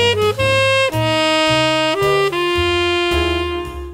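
A solo trumpet line plays wide-leaping, sustained notes above a band backing, loud and clear with no talking.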